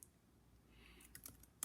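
Light typing on a computer keyboard, faint scattered key clicks building to a few sharper taps near the end, quiet and close with no voices.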